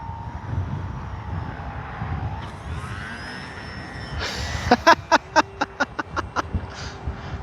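An E-flite Sportix RC airplane on a windy day whines overhead as its electric motor changes pitch, then a run of sharp, regular clicks or taps follows near the end.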